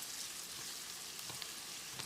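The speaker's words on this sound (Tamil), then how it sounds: "2 நிமிஷம் இதை நல்லா ஃப்ரை பண்ணிக்கலாம்" Fresh green peas and beans fry in a pan, giving a steady, quiet sizzle with a few soft stirring scrapes and no voices.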